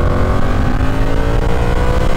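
A Yamaha motorcycle engine revs loud and close, holding a dense, steady growl with a rough, rumbling edge, no talk over it.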